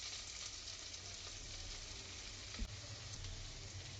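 Green chili and onion frying in hot oil, a steady soft sizzle that stays even throughout, with one small clink partway through and no talking.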